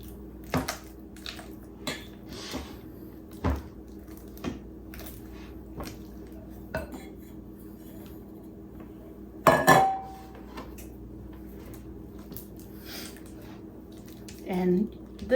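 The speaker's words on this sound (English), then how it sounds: "Sometimes it takes a little bit to get all the cream cheese and the cheese mixed evenly." Cream cheese and shredded cheese are stirred together in a bowl by hand, giving intermittent utensil clinks and soft scraping knocks, with a louder clatter midway.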